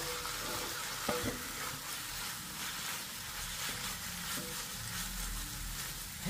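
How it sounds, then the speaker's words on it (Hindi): A spoon stirs mixed vegetable vermicelli in a pan over a low flame, with steady sizzling frying underneath and occasional scraping knocks against the pan, close and continuous with no speech. "हिला देते हैं अच्छे से।"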